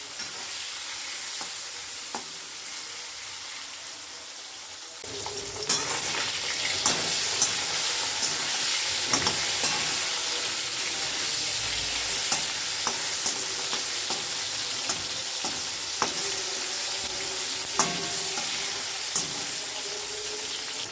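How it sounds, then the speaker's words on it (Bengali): Small salted, turmeric-coated fish pieces drop into hot mustard oil in a wok, starting a loud, steady sizzle after a quieter opening, with scattered clinks and pops throughout. "সর্ষের তেলটা গরম হয়ে গেছে, আর নুন হলুদ মাখানো মাছের ছোটো ছোটো টুকরোগুলো কড়াইতে দিয়ে দিলাম, মানে তেলে ভেজে নেবো আর কি"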